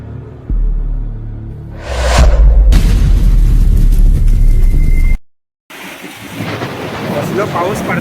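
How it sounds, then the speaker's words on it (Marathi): A Konkan thunderstorm brings a sharp thunder crack and a booming rumble over heavy, roaring rain and wind, with a brief gap of silence before the downpour continues. "कसलो पाऊस पडता बा. वारा अरे बापरे जबरदस्त."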